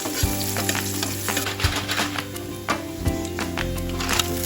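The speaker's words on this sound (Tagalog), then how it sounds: "Igisa na natin itong hiniwa nating luya. Pagsabayin ko ng ilagay itong bawang at sibuyas." Sliced ginger, garlic and onion sautéing in a pan, a close continuous sizzle with rhythmic stirring clatter from a utensil against the pan.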